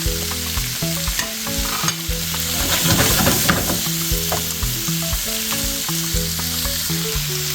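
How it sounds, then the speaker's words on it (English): Chopped ginger and garlic sizzling in a hot pan for a spaghetti stir fry, a continuous crackling fry with rhythmic scraping stirs, close and fairly loud, without speech. "we put in some of the ginger, chopped ginger, and some chopped garlic"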